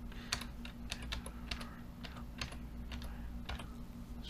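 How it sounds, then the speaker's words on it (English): Someone types a Wi-Fi password on a computer keyboard, producing a quiet run of irregular key clicks over a steady low electrical hum, with no talking. "did I type in the right password?"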